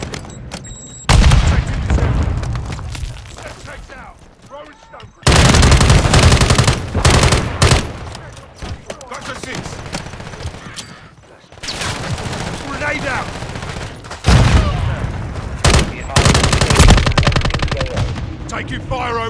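Call of Duty Modern Warfare 3 gunfire in a team deathmatch at the Stash House: repeated loud bursts of automatic rifle fire, separated by brief lulls, with game voices talking between volleys.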